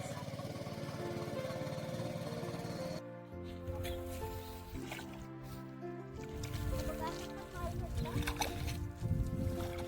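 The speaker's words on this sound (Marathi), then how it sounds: "पूर्वा आता एक्सपर्ट झालेली आहे, एकटीच चालवायला लागलेली आहे ट्रॅक्टर." A tractor engine drones steadily in a rice field during paddy planting in the Konkan, a low continuous motor hum running under people talking throughout.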